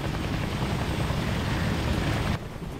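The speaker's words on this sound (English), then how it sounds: "Team, get in the helo." Military helicopter in the video game Operation Flashpoint Red River, a loud steady rotor and engine roar with dense low thumping, dropping slightly in level near the end.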